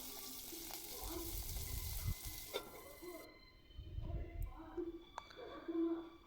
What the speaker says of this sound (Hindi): तेल गरम ही सारला परे जीरा के पकई देमी जीरा फुटी गला परे उइल मरीच के पकई देमी